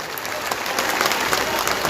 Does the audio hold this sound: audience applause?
yes